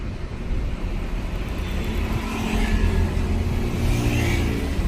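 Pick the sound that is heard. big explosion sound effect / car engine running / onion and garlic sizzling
car engine running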